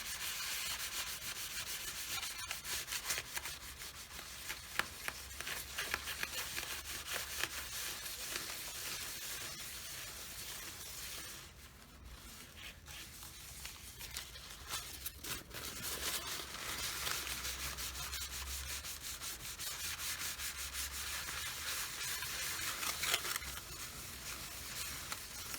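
Black patina paint being rubbed off copper plated aluminum, a continuous, even, close scrubbing and rasping that runs throughout with only a brief lull in the middle.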